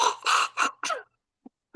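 Several harsh coughs in quick succession, close and loud, followed by a pause, a tiny faint sound, and the start of another cough.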